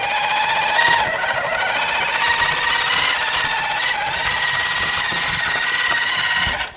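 A cheap RC crawler fitted with an Injora MB100 ESC driving under steady throttle, giving a continuous close electric motor whine with gear hum that holds even for several seconds before cutting off.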